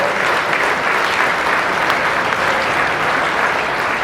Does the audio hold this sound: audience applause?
yes